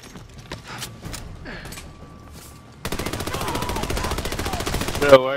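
Gunfire in the video game Army of Two: The Devil's Cartel, a quiet stretch with a few sharp clicks and mechanical sounds, then a dense, rapid automatic-weapon burst that runs on loud to the end.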